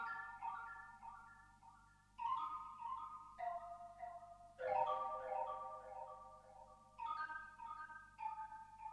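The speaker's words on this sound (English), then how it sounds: "I added like these wind chime bells that sound like this." Wind chime bells in a vintage-style FL Studio sample ring out in shimmering, layered tonal clusters, with new strikes entering every second or two over a steady low hum, clear and unaccompanied by talk.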